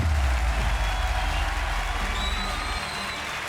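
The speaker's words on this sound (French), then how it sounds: "Qu'on peut applaudir pour leur prestation exceptionnelle." Sustained audience applause for performers at a televised talent show semi-final, a dense wash of clapping from a large crowd, fading slightly toward the end.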